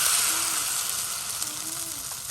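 Rice flour batter sizzling on a hot, oiled clay pan while making Noakhali-style chitol pitha, a soft steady hiss running close and even throughout.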